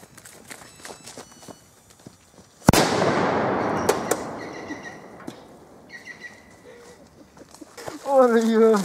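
Footsteps and light movement, then a single sharp blast of a powerful firecracker blowing up a Nokia 3210 phone, with a long noisy decay, followed by faint chirps and a voice speaking near the end.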